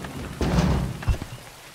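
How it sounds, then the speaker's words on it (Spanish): Rain and thunder in the village-building game Farthest Frontier: steady rain hiss with a low rumble of thunder swelling midway and a sharper crack near the end, no talk. "Están cayendo rayos. Bastante fuerte."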